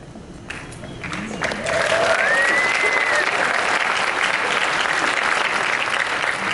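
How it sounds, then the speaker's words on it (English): An audience at the VidCon 2014 keynote breaks into applause that swells within the first two seconds, then holds as a dense, steady roar of clapping, with a faint whistle or cheer riding over the middle. "you can applaud a bit more"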